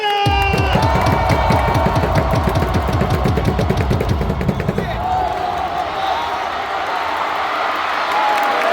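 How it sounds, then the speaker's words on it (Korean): A large crowd at a Hanwha Eagles baseball game roars and cheers together in a loud, sustained swell, with rhythmic chanting underneath that fades into a broad, continuous din. "힘을 주는 함성 5초간 발사"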